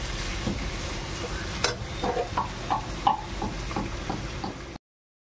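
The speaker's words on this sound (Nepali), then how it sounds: "हाम्रो यो पोटा चाहिँ राम्रोसँग फ्राई भइसक्यो" Chicken stomach frying in a pan, a steady loud sizzle with a few scrapes and knocks as it is stirred, no talking.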